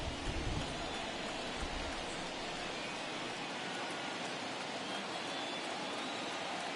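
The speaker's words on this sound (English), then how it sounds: "This has got to be the hardest rain we've seen all afternoon." Heavy rain in a baseball video game, a dense, loud, continuous hiss of downpour filling the scene evenly throughout, with no voices heard.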